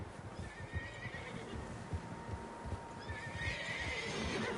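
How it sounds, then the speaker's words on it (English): Horses in Red Dead Redemption 2 whinny with rising, drawn-out neighs while a group's hooves thud in loose, heavy clip-clops over a low outdoor rumble, with several animals close by. "Horses, quite a few of them"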